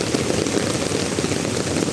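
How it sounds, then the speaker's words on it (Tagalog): Steady heavy rain hisses and patters continuously during a thunderstorm, a dense wash of drops with no pauses. "ang lakas ng ulan eh"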